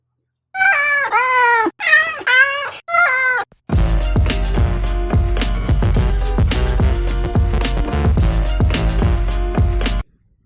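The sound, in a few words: cat meowing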